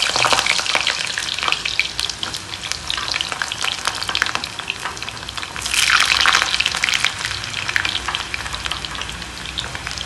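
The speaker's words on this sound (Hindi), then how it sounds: "सबसे पहले इसमें आलू को फ्राई कर लेंगे।" Potatoes frying in hot oil in a kadai, a loud, dense, continuous crackling sizzle heard up close that swells briefly midway, with no voices.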